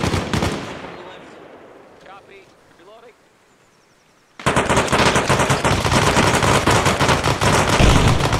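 Sustained machine-gun suppressive fire in Arma Reforger, a loud continuous burst of rapid shots that starts abruptly after a quieter stretch where someone speaks over distant gunfire.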